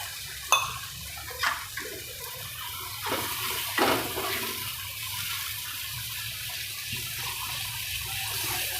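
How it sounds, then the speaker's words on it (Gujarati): Water poured into a pan of chickpea and yogurt curry masala to cook down the spices. A steady splashing pour runs throughout, close and moderately loud, with a few sharper clinks and splashes near the start. "આપણે મસાલો પાકે એટલું પાણી નાખીશું"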